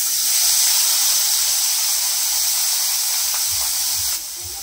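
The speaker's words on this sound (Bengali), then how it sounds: "এই চুনো মাছগুলোকে একটু ভেজে নেবে।" Small river fish fry in hot oil in a kadai, giving a loud, steady, close hiss and sizzle that drops slightly in level just before the end.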